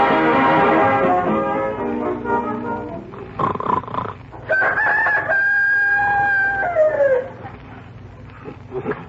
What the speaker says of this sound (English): I just heard a rooster crowing